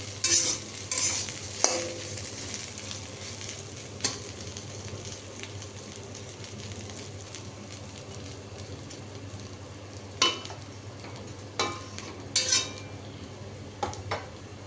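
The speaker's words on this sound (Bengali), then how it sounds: "সব সবজিগুলোকে দিয়ে একটু নেড়ে নিলাম।" A spatula stirs mixed vegetables frying with dried red chilli and ginger in a pan, making a low continuous sizzle broken by sharp metallic scrapes and clinks, clustered near the start and the end.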